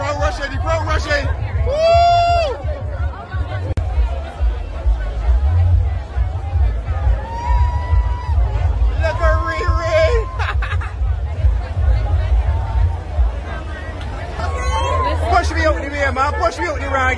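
A crowd rushing and chattering: loud, continuous babble of many voices with excited shouts and whoops standing out, over a steady low rumble, lasting throughout.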